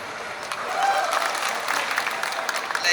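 Audience applause at a film promotion event: a dense, continuous patter of many hands clapping, fairly loud and sustained for a few seconds.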